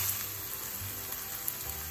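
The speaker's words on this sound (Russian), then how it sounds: "Высыпаем лучок" Steady soft sizzling of onion frying in butter in a pan, continuous and fairly quiet, with a low hum underneath.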